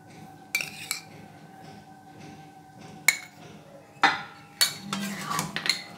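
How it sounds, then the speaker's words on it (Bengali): A spoon stirs a yam curry with ghee in a metal pot, giving sharp clinks and scrapes against the rim in uneven bursts over a quiet background, with no speech. "নেড়ে মিশিয়ে দিলাম"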